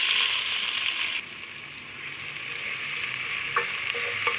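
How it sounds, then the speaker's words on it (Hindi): Sliced onions fry in hot oil in a pan. A steady, fairly soft sizzle runs throughout, with a few light clicks of stirring near the end and no talking. "अब हम ये प्याज ऑयल में डाल देंगे।"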